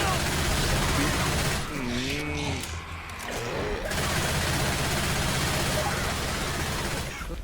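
Gunfire from survivors shooting zombies in Left 4 Dead 2 rattles in dense bursts under a loud game soundscape, easing briefly mid-clip while a voice speaks, then resuming.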